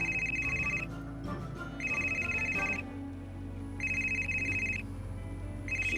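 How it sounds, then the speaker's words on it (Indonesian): A telephone ringtone sounds in repeated bursts of about a second each, separated by short gaps, over a low background hum. "Si bos telepon."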